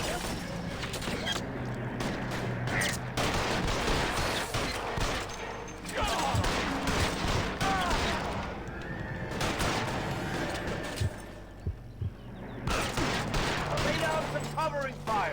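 Gunfire in an L.A. Noire shootout: repeated loud shots and bursts crackle over a busy mix of voices, a horse whinny and mechanical clatter, fairly close and continuous.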